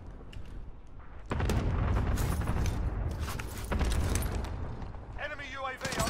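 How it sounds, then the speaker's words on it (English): Rolling cluster-strike explosions in a Call of Duty match, a thick sustained rumble of overlapping blasts that swells after the first second and holds loud, with scattered gunfire and brief voice callouts near the end. "Cluster strike incoming."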